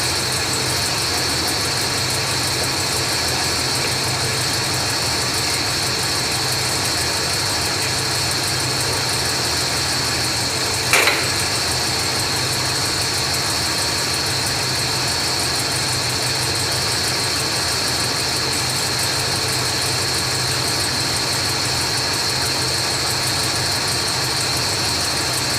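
A car engine idles steadily on its rear fuel tank after the tank switching valve is flipped over, a continuous low running drone that stays even throughout, with one brief click partway through.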